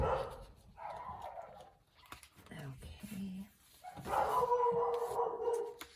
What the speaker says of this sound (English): Dear shepherd loves to bark.